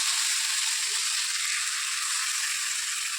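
Potatoes fry slowly in a pan with a paste of ground ginger, cumin, chili and tomato, giving off a steady, even sizzling hiss that carries on without pause and without any talking.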